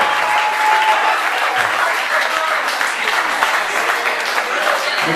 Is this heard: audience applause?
yes